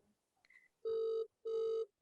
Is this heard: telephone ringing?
yes